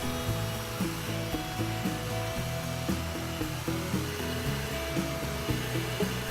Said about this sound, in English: following closely behind the heat gun